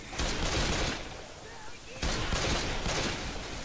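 Bursts of rapid dual-pistol gunfire in Left 4 Dead 2, a dense stream of shots, break off briefly midway and then resume just as loud.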